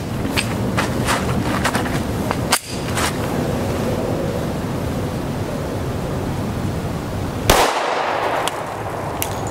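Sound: Glock pistol firing 10mm Auto rounds

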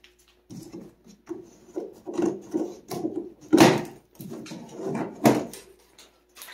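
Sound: taking a bicycle out of its cardboard box

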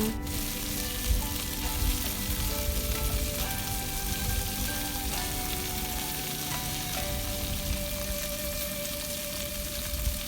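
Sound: pork belly stir-frying in a pan

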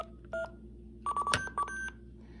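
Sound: DTMF telephone dialing tones from Hack-Tic Demon Dialer prototype

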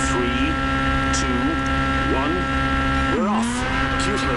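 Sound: WRC rally car accelerating away on gravel

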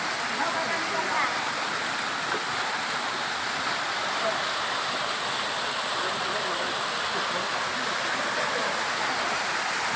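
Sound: waterfall at Munggai village, Pariaman

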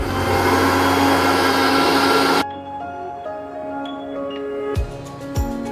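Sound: mixer grinding ginger, garlic and chilli paste

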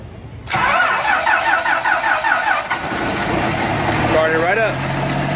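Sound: diesel city transit bus engine cranking and starting with jump starter

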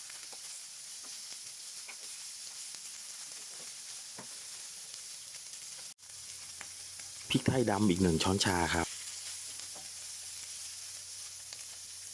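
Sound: pork belly stir-frying in a pan

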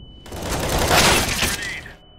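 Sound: flashbang and incendiary grenade thrown in video game CS:GO

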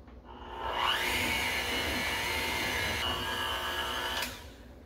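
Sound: electric mixer creaming cookie dough

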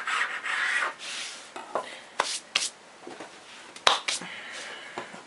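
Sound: knife cutting rolled-out dough in half

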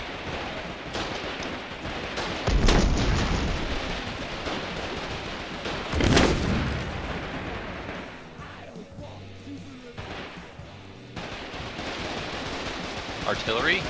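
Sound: artillery shell firing in the video game Foxhole

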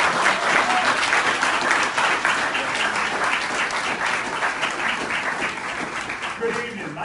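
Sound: audience applause

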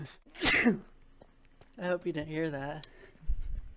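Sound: sneeze

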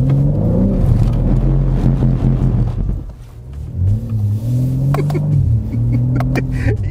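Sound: modified BMW M3 Touring car engine revving

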